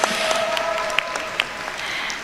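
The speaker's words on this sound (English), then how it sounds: "Let's give another round of applause for the Novice Grand Finalists." Audience applause for the novice grand finalists at a university debating championship, fairly faint and steady across the whole moment with a few sharper individual claps standing out.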